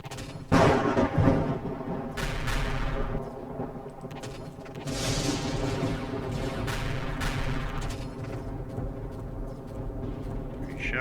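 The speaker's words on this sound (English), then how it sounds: "Shots." Gunfire in the space survival video game Empyrion Galactic Survival comes as a heavy burst of blasts, then rumbling, booming shots and echoing impacts that keep on for several seconds over a continuous low game hum.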